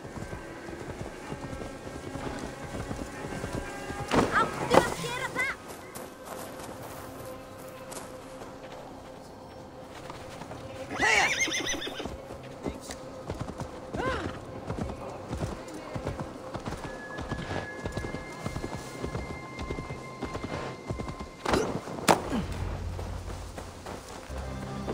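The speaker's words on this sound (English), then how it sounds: "Let's return the horse." Horse hooves clip-clopping at a run and a short neigh in the Assassin's Creed Valhalla video game, mixed with game ambience and voices talking over it, with louder hoof bursts around the middle and near the end.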